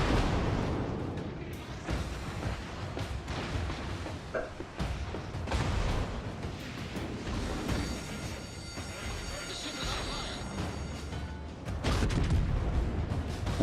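Heavy naval gunfire from an Iowa battleship in World of Warships, with deep booms and rumbling blasts rolling under continuous game noise and a talking voice.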